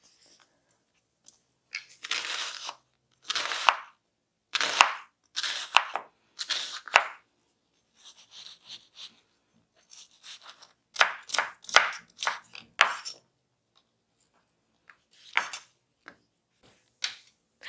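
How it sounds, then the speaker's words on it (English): A knife chops a red onion on a board in uneven bursts of crisp, close taps with short pauses between runs, quiet and alone. "we're gonna start by taking half an onion, a red onion, which is gonna have some wonderful flavor. I'm gonna chop it up"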